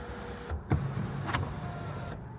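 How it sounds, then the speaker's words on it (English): A power sunroof on a 2019 Lincoln Navigator opening with a soft electric motor whir and a couple of mechanical clicks and thuds as the panel slides back, heard close inside the cabin with no talking. "let's open up the sunroof"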